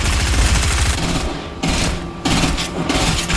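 Rapid gunfire in the video game Fortnite, dense bursts of loud shots with a couple of brief pauses, close and continuous over a few seconds.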